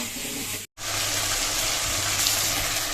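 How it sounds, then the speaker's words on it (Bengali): Rice is rinsed under a steady, loud stream of running water in a home kitchen, a continuous gushing splash broken once by a brief silent gap. "এখন হচ্ছে চালটা ধুবো"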